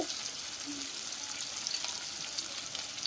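Onion sizzles in a hot pan with green chilies, a steady, even hiss of frying oil that holds at a constant level throughout, close and uninterrupted.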